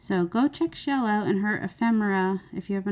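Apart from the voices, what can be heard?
None of the usual background noises is heard.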